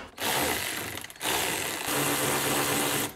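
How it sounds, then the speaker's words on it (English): Deep socket wrench turning a 10 millimeter bolt on a Toyota Prius during a hybrid battery replacement, heard as close, loud ratcheting bursts broken by short pauses. "We'll get it with a deep socket."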